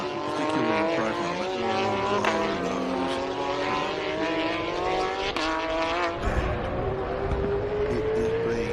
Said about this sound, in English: Oh, Jake Donaldson very wide through the hairpin.